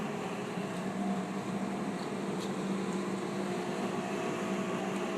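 An electric commercial pool vacuum running steadily, a constant motor whir and airy rushing hum with no change in level, with no voices over it.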